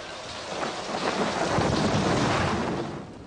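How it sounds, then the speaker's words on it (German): Heavy summer thunderstorm with dense, steady downpour and a deep roll of thunder swelling through the middle, loud and close throughout with no voices. "an diesem Tag des heiligen Laurentius schüttet es wie aus Kübel"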